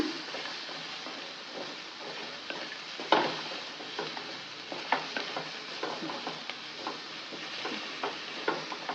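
Tomatoes and onions fry in a pan for goat head gravy with a steady broadband sizzle, occasional stirring clicks and taps against the pan, close and continuous with no talking.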